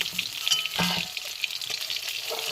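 Fish fries crisp in hot oil, a close, continuous sizzle and crackle with a brief heavier burst near the start.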